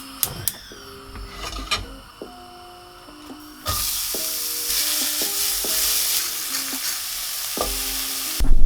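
Thinly sliced onions cooking in butter and salt in a pan for a smash burger topping, with a steady sizzle rising sharply partway through, plus the clicks and scrapes of stirring. Soft, widely spaced clinks fall over the frying hiss.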